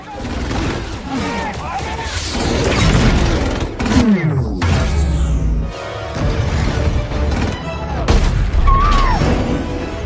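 Loud bursts of drone gunfire and heavy explosions with whooshing debris in a film, layered with a dramatic score in an intense action sequence.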